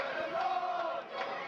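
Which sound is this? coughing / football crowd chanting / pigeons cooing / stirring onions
football crowd chanting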